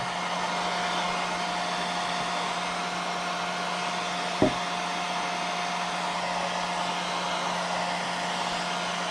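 A dryer blows steadily and loudly up close over a painted wood face carving, a constant airy roar with a steady whine and one brief knock midway.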